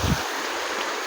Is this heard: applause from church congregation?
no